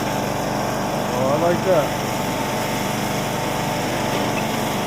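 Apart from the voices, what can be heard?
John Deere LA105 lawn tractor engine running at full speed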